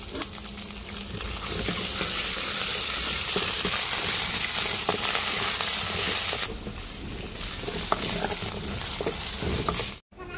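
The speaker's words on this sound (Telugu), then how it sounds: "అల్లం వెల్లుల్లి పేస్ట్ కూడా వేసేసుకొని పచ్చి వాసన పోయేంత వరకు ఫ్రై చేసుకోవాలి" Ginger garlic paste frying with green chillies and onions for a liver curry gives a steady, close, dense sizzle with faint stirring scrapes, easing slightly partway through and cutting out briefly near the end.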